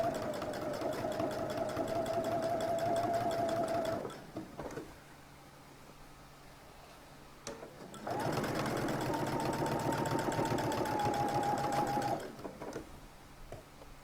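A home sewing machine stitches a shirt collar in two steady motor-driven bursts of rapid needle chatter, each about four seconds long, separated by a quiet pause, close and moderately loud with no talk.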